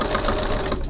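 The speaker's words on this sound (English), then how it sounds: "pivot, stitch across to the other line and stitch down, pivot, and stitch across" A sewing machine runs steadily, stitching fabric for a crossbody bag, a close, continuous motor whir with a fast stitching pulse throughout and no talk.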